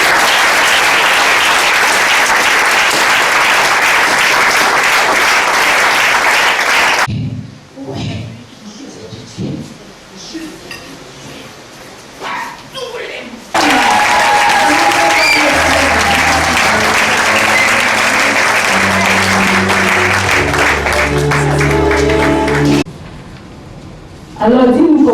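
A church congregation bursts into loud, sustained applause and cheering at a deliverance service, with a quieter stretch of murmuring voices midway before the clapping and acclaim surge back, backed by low musical tones.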